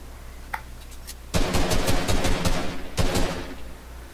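Gunfire in Fortnite during a live gameplay session: a sharp burst of rapid automatic shots, then a second quick volley, loud over faint background game ambience.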